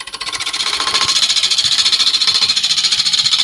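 Woodturning a silver birch bowl on a lathe with a titanium nitride coated half-inch ball gouge, a steady, close, bright scraping hiss with a fast rhythmic pulse, heard alone.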